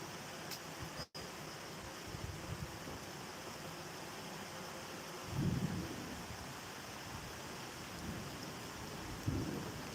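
Distant rumbles of thunder roll through a storm, two low swells standing out over steady rain hiss and a soft noisy background, with no voices.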